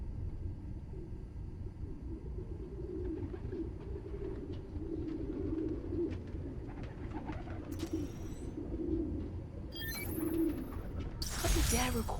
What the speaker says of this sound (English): How did Dad record this? Was he a pigeon whisperer?